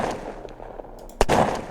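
An explosive round fired in the video game Unturned kills a bear, landing as a single sharp blast about two-thirds through, loud against a steady game ambience.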